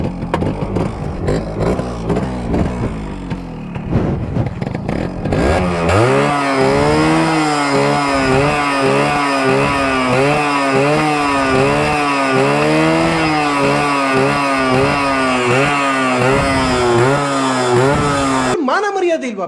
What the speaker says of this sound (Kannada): 2 ಸ್ಟ್ರೋಕ್ ಇಂಜಿನ್ ಆಗಿರೋದ್ರಿಂದ ಸೌಂಡ್ ಮಾತ್ರ ಸೈಕ್ ಆಗಿ ಬರುತ್ತೆ ಅನ್ಕೊಳ್ರಿ